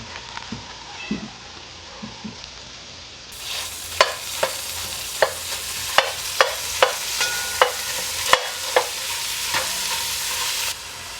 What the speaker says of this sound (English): Brown our beef.